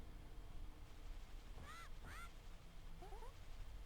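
Duck quacks from Zelda: A Link to the Past on Nintendo Switch, a few chirpy calls in two quick bursts followed by a softer run of short squawks, over a steady game background hum.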